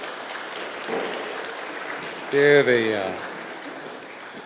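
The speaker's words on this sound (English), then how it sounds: "A round of applause." Audience clapping at an award ceremony, a broad steady patter that swells briefly louder mid-clip, with a voice speaking over it.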